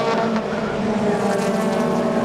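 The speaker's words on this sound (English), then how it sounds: "Luke Austin, the Northamptonshire driver, trying to make a move around the outside there, going into Paddock Hill Bend" Toyota MR2 race cars roar around the Brands Hatch circuit near Paddock Hill Bend during a Millers Oils Toyota MR2 Championship race, a loud, continuous, steady engine drone throughout.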